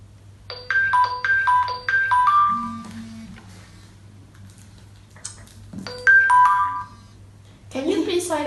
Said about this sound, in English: Can you please silent your phone?